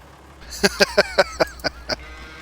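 A string of seven short, evenly spaced lowing calls from calves in Farming Simulator 19, moderately loud over a faint steady background hum.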